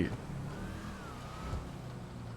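A modified Dodge Challenger Hellcat in GTA revs its engine, a droning motor note that swells and sweeps in pitch beneath someone talking over it.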